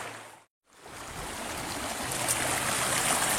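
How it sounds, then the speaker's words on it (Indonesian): The Cimeta River runs at low flow, and its water gives a continuous broadband rush near a railway bridge. A short dropout early on breaks the sound before the steady flow returns. "Untungnya debit air di Sungai Cimeta ini tidak sedang besar pemirsa"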